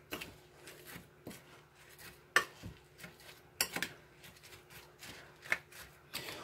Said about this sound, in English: Then we'll stir it around.